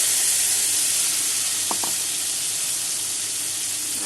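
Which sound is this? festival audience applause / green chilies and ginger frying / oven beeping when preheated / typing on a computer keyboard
green chilies and ginger frying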